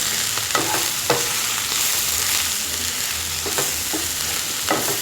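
Broad beans poriyal frying with salt, turmeric and chilli powder in a pan, a steady sizzle broken by repeated spatula scrapes at intervals throughout.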